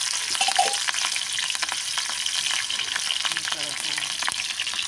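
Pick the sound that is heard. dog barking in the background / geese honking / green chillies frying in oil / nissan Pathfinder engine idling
green chillies frying in oil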